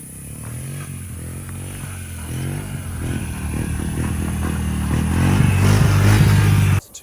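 A 2013 Honda TRX90X ATV engine runs near at hand, its putter rising and revving steadily louder with a clattery rattle before cutting off abruptly at the end, no talking.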